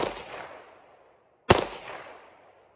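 Two sharp rifle or pistol shots from a PSA rock firearm fired outdoors downhill toward trees, each a loud crack followed by a rolling echo that fades over about a second.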